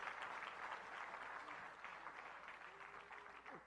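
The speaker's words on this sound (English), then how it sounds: "that's a good place to clap" An audience at a leadership talk claps in a steady, dense wash of applause that holds at moderate loudness throughout, with no voice over it.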